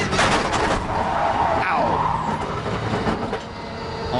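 Loud, dense crash noise from GT3 race cars colliding at full speed at Paul Ricard, a broadband crunch with a sweeping scrape partway through, continuing as sustained racing din without a gap.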